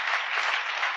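A church congregation at a French-language worship service breaks into a dense burst of applause, loud and steady for about a second, with no voices standing out.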